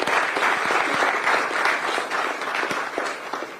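An audience applauds at an event, a continuous round of many people clapping at a moderate, even level throughout, with no speech over it.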